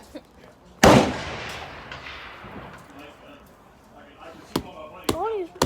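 Gunshots at a gun range: one sharp, loud report rings and decays over a couple of seconds, then two more distant cracks come later as people talk nearby.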